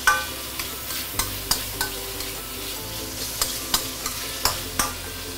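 Carrot sautéing in hot oil for a cabbage stir-fry, a steady soft sizzle broken by a dozen regular sharp clacks of a spatula stirring against the pan, close and without talk.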